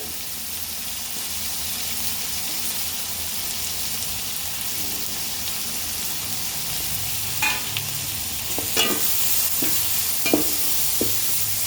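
Tomato, coriander and mint being sautéed for homemade kothu parotta, a steady broadband sizzle with occasional louder spoon scrapes and stirs toward the end, no voices.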